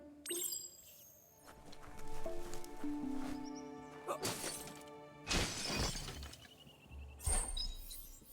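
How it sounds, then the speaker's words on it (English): A box is smashed in the video game Biomutant, with several sharp crashing and shattering bursts among softer clinks and game ambience, no speech. "You shouldn't worry about smashing up the box."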